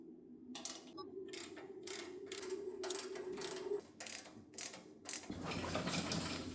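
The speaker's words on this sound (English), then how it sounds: "Now we can bolt this gas tank in" A ratchet clicks in repeated bursts while bolts are tightened to secure a custom gas tank on a turbocharged mini Jeep, crisp close ratcheting over a low background hum.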